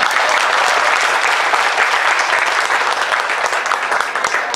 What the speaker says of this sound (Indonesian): sekali lagi Bapak Ibu tepuk tangan yang meriah